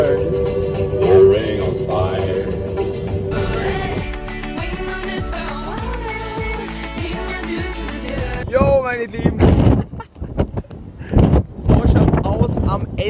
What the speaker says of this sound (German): Es geht doch mega der Wind.